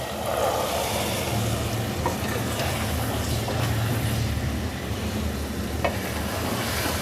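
Salt and chilli fry in a hot pan as peas go in for a peas and egg curry, a dense continuous sizzle with scraping stir noises throughout, no talking.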